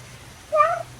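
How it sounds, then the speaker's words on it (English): A house cat gives a single short rising meow, close and clear against a quiet room with a faint low hum, no talking. "I've got cats demanding attention right now"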